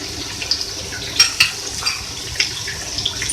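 Water is poured into potato biryani masala, giving a soft splashing and bubbling with small clinks, steady and close.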